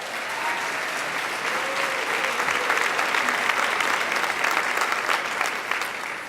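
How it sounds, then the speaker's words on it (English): Audience at a youth athletics awards show gives the coaches a round of applause, with sustained dense clapping that swells slightly midway and holds steady for several seconds. "So all coaches, let's give them a round of applause"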